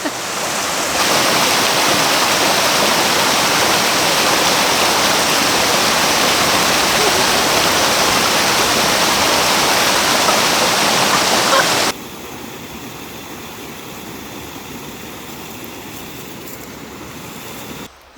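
Agawa Falls, an 80 ft cascade on the Towab Trail, roars in a loud, steady rush of falling water that drops to a softer level partway through, with no talk over it.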